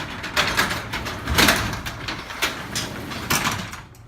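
A garage door that won't shut rumbles and rattles steadily as it moves along its track, with rhythmic clanks and squeaks from rollers passing joints.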